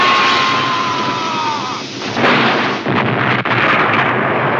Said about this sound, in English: time to blow up the Death Star, or planet, or whatever